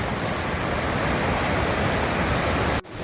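Water from a mountain stream in the Ladakh hills rushes in a loud, steady, broadband wash close by, continuous until it cuts off abruptly near the end.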